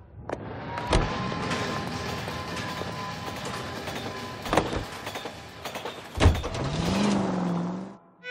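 A car drives in the video game L.A. Noire, a steady rumbling engine with road noise and a few sharp bumps or clunks, rising into a revving tone near the end.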